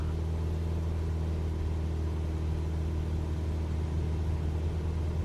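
A simulated Cessna 172 engine drones during the takeoff roll in a flight simulator, a steady, even, low hum with no speech.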